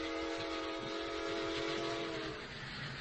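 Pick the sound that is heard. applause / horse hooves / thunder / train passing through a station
train passing through a station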